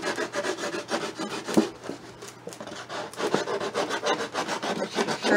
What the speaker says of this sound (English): I should have sharpened this knife up a little bit before I started.